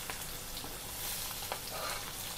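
Chopped onion hits a hot tempering of mustard seeds, cumin and curry leaves in a pan for poha, giving a continuous, close, crackling sizzle that stays steady throughout with no talking.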